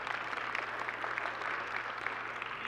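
A crowd applauds steadily, a dense wash of clapping at moderate volume that holds evenly throughout with no voices on top.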